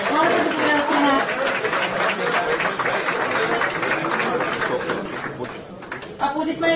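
Steady audience applause fills a hall at a referees' awards ceremony, a dense continuous patter of many hands that slowly tapers near the end, with a voice speaking over it.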